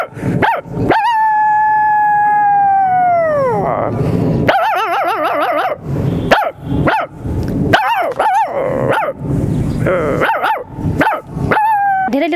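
A woman mimics a dog with her voice, first drawing out a long wavering howl, then breaking into a rapid run of sharp, loud barks and yips, close and clear.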